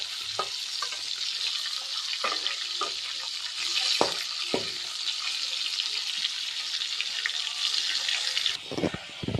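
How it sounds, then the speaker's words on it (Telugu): Fish pieces fry in hot oil, giving a steady, close hiss and crackle with occasional sharp pops and clinks from stirring throughout. "అలా ఫిష్లో ఫ్రై చేసుకోవాలి ఆయిల్లో."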